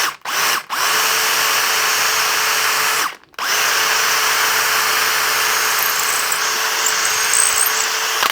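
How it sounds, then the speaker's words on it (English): A loud power drill whines steadily through metal with a 6.8mm bit, stopping briefly twice early on and then running on with a constant pitch. "I'm going to drill it and tap that 8mm as well."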